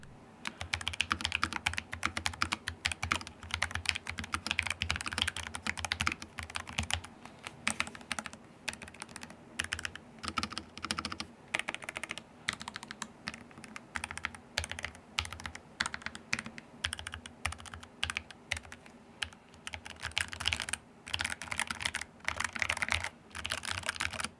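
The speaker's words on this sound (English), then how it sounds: "let's go ahead and do a sound test for this keyboard" Rapid, steady typing on an ASUS ROG Falchion RX low-profile computer keyboard, with dense soft key clicks running continuously at close range and no voices.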